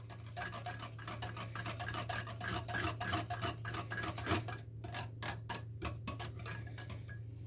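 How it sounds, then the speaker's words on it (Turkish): Batter with a packet of baking powder is stirred in a bowl, giving quick, repeated rhythmic clicks and scrapes of a utensil against the bowl, fairly quiet and close, with a low steady hum underneath. "Bunları şöyle güzelce bir karıştıralım."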